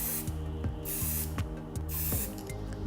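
Aerosol touch-up spray paint for decorative door products, released in light coats: a steady, close hiss continuing throughout under a faint mechanical hum with low periodic thumps.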